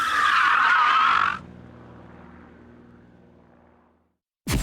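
A car skids and squeals its tires loudly through a 360-degree spin and handbrake parking manoeuvre, then the engine note fades to a low rumble before another burst of tire noise at the end.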